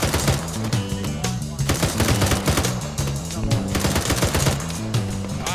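High-explosive rounds striking in ArmA 3, heard as dense, rapid, continuous bursts of loud impacts and gunfire, steady and close, mixed with a thumping, music-like layer throughout.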